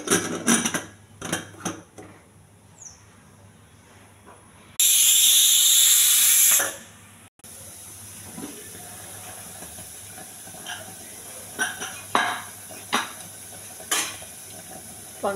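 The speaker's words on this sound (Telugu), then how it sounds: "కుక్కర్ మూత పెట్టేసి 4-5 విజిల్ రానివ్వాలండి." Pressure cooker cooking pongal with rice, turmeric and salt, a sudden loud burst of whistling steam hiss lasting about two seconds, set between quieter clinks and faint kitchen noises.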